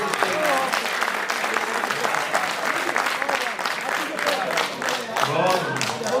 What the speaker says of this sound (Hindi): अरे सारे लोग ताली बजाएं बजाएं।